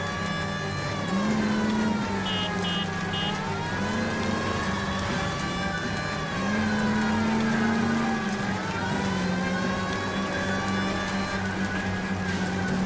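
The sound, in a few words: police car siren in a video game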